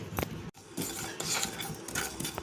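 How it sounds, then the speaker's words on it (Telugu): Coriander, mustard, cumin, fenugreek and sesame seeds fry in a pan, giving a close, steady rattle of seeds and metal scraping as a spoon stirs them, with one brief drop-out partway through. "కొంచెం ఫ్రై అయ్యాక రెండు స్పూన్లు నువ్వులు వేసి ఫ్రై చేసుకోవాలి"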